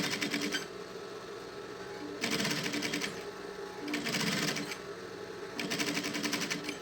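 A sewing machine stitches piping onto a synthetic school pencil case in three or four short bursts of rapid clatter separated by quieter pauses, close by.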